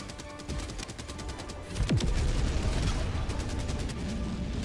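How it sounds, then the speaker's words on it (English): Autocannon fire in the video game Helldivers 2, a rapid, evenly spaced string of loud heavy shots with booming impacts mixed in, continuing throughout without speech. "when the auto cannon actually shoots though, it goes it goes pretty quick."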